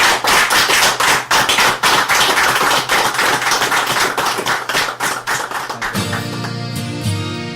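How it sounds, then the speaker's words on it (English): An audience applauds a guest with loud, dense clapping that fills most of the clip, then fades as music takes over near the end. "So, could you please give a round of applause for Rudi Vata?"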